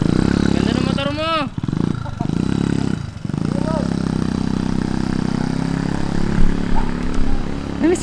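A motorcycle engine idles and revs nearby, rising and falling in pitch in quick sweeps early on before settling into a steady running drone, with people talking over it.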